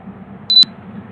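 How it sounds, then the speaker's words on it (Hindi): A single short electronic beep rings out from a UFI box as it identifies a 64 GB eMMC chip, clear and close over a faint low hum. "आपने बीप सुनी होगी"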